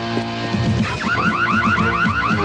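Gate alarm in a Megaman game blares a rapid warbling electronic siren, loud and repeating in quick up-down sweeps after a short burst of game sounds, with no talking.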